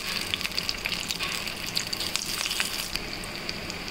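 Snake gourd kola balls fry in a pan of oil over moderate heat, making a steady, close crackling sizzle with rapid popping bubbles and no talking.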